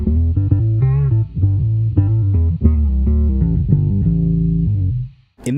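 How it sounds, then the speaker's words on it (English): Guitar run through a Boss OC-3 Super Octaver set to output only the octave-below signal, giving deep, bass-like picked notes in a short melodic phrase, fairly loud and alone, ending with a quick high-pitched squeak. "So that would sound like just a bass by itself."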